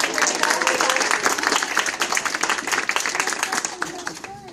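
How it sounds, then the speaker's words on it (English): An audience claps at a preschool graduation, a brisk burst of applause that fades toward the end, with voices mixed in. "So John, everybody, let's clap for John again."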